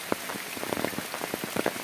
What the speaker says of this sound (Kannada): ಇಲ್ಲಿ ಸಿಕ್ಕಾಪಟ್ಟೆ ಮಳೆ ಬೀಳ್ತಾ ಇದೆ ನೋಡಿ